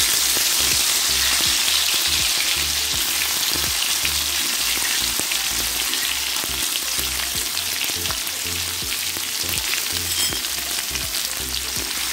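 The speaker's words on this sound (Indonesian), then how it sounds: "Ini minyak bekas menggoreng ikan bilis. Saya akan tumis bawang ya." Sliced onions sauté in a wok of hot oil left over from frying anchovies, giving a loud, continuous sizzle with steady crackling and occasional scraping stirs, close by and without talk.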